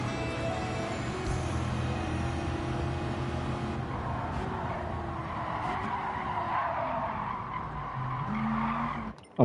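Car tires skidding under late braking in Gran Turismo 7, with a loud, sustained squeal over a droning race engine whose pitch shifts as the car slows, ending in a sharp thump.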